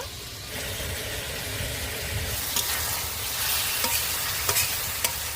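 A jackfruit-seed and dal curry simmers hard in a pan, giving a dense, continuous bubbling sizzle with a low rumble and a few sharp pops and spoon clinks near the end, with no voices.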